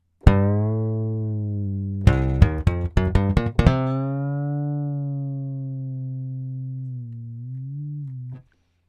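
Synthesized electric bass notes from Session Bassist Jam Bass sustain and slide up and down under pitch-wheel bends, broken midway by a quick run of short plucked notes and ending in a wavering held tone.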